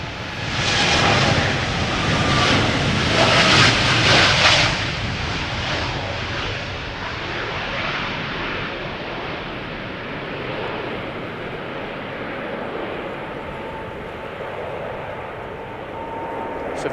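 A ten-year-old United Airlines Boeing 787-8 Dreamliner takes off from Schiphol's Polderbaan, its jet engines roaring loudly up close, then the noise steadily eases into a fading rumble.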